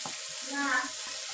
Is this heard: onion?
yes